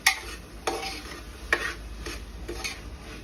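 Undhiyu vegetables with chutney being stirred in a pot: a spoon scrapes and knocks in a rough rhythm of about five strokes over a soft sizzle, close and fairly loud.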